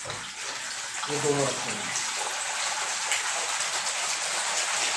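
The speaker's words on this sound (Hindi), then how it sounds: "दोनों को अच्छे से पहले घोल दिया गया है पानी में, उसके बाद में दोनों में अब ये फेना बनाया जा रहा है" Water mixed with shampoo and foam booster is whisked into foam, giving a steady rushing, sloshing wash of sound under a brief spoken remark.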